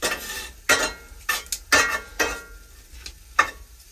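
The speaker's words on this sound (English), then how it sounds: "give this a little stir up" A utensil stirs cabbage in a pot on a wood stove, scraping in about seven separate strokes, some with a light sizzle, each sharp and close with short pauses between.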